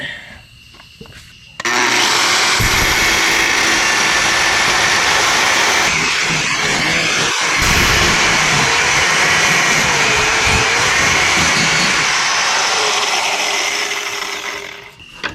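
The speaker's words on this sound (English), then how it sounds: "let's get this weld cut" Power tool cutting through a weld on an old, worn excavator, a loud continuous high-pitched whine and roar held steady for over ten seconds, close up, with a brief dip partway through before winding down.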